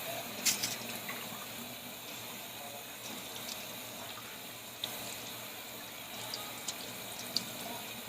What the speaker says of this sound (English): we're going to rinse this pork off